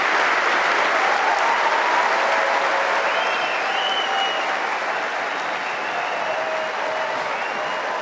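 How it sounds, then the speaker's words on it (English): Sustained, loud crowd applause fills Wimbledon's Centre Court for Novak Djokovic after his on-court interview, a dense wash of clapping with faint cheers and voices running steadily throughout. "taking the applause from the crowd and the royal box"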